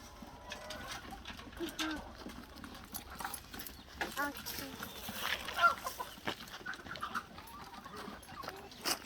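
Chickens and puppies on a farm make faint, scattered clucks and small yelps at low volume, mixed with nearby people talking.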